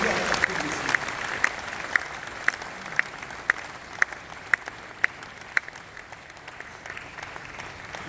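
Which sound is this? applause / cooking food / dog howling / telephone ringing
applause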